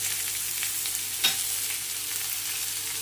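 Capsicum masala rice roasting in a pan with a little oil, a soft steady sizzle with faint stirring scrapes and one brief clink, heard close and alone.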